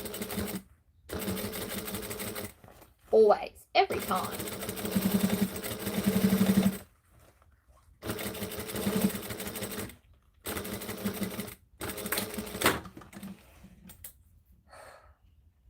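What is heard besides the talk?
sewing machine top stitching leather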